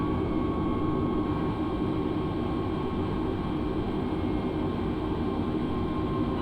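Frontier Airlines jet engines roar at a steady, dense rumble as the airliner takes off from runway 8 at Phoenix in Microsoft Flight Simulator 2020, a constant loud wash with no talk.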